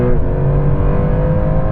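A Porsche 911 Turbo S engine pulls hard in third gear, a loud, steady close-up roar with harmonics rising slightly as it revs, with no talk over it.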